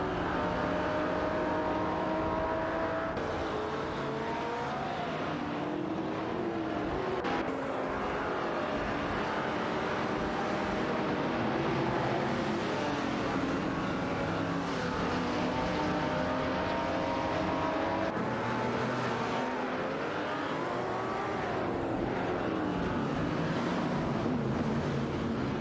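Race cars roar past during a race, their engines whining and revving in overlapping tones that rise and fall continuously for the whole stretch, loud and without any voices.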